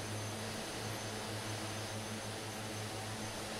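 Twin Otter cargo airplane in flight over Alaska, a loud continuous engine and propeller drone inside the cabin with a steady low hum and a pulsing beat, no talk.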